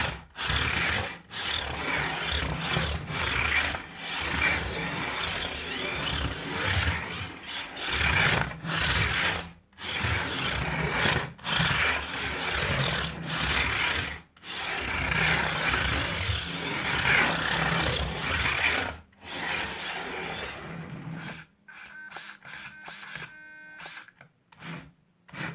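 A beetleweight combat robot, the weld-dor Mini, drives under test with a continuous whirring, rasping motor and wheel noise, loud and close with brief pauses and bursts, tailing off into scattered clicks at the end.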